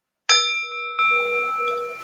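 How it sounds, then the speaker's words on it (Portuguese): A meditation bell is struck twice, the first ring sounding clear and sustained and the second struck about a second later, its tone lingering and slowly fading in a quiet room. "eu vou tocar o sino"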